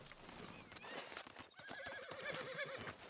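Horse neighing in the Red Dead Redemption video game, a loud whinny with rising and falling pitch over hoof clops and other game sounds, no talking.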